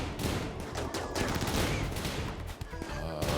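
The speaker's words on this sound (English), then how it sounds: "I'm getting shot and just completely ignoring all the bullets that are flying by them." Dense video game gunfire, rapid overlapping shots and bursts with bullets cracking past, continuous and fairly close for a few seconds, with no talking.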